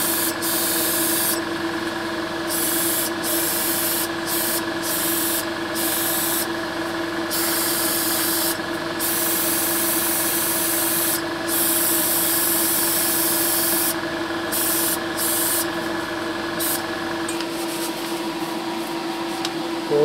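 An air-fed spray gun hisses in repeated bursts over a constant steady hum as a car interior is painted red, the short sprays stopping and restarting at irregular intervals; no voices.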